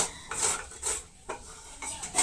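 Fresh carrots being grated by hand for gajar halwa, a rhythmic series of rasping strokes close by, each pass a short scraping burst with brief pauses between.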